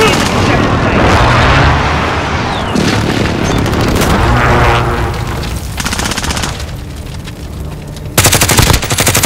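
Call of Duty Modern Warfare battle with a precision airstrike landing: heavy booming explosions and rapid gunfire crackle loudly in bursts, mixed with in-game radio voices calling out.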